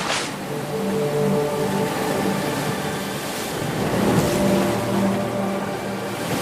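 A boat moving across the sea, with a steady engine-like drone and low rumble under continuous wash of water and wind, loud and sustained throughout with no talking.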